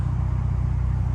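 An Acura TSX engine with new injectors and a removed catalytic converter idles steadily, a low even rumble with a faint regular pulse, close and constant with no talking.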